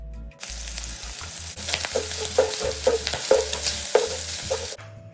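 Sliced pork belly, minced ginger and garlic, and soaked dried shrimp are stir-fried in a wok for Hakka preserved vegetable rice, with a bright sizzle under rapid, uneven scrapes and clacks of a metal spatula.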